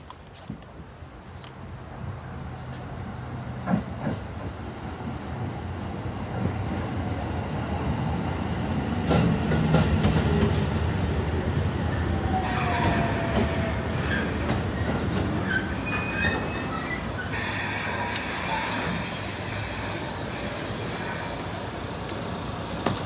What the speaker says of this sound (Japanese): まもなく上り列車が参ります。